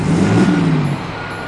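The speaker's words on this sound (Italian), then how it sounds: "Il camion ribaltabile." A dump truck's heavy engine rumbles close by in a short, steady burst that eases slightly toward the end, with no voices present.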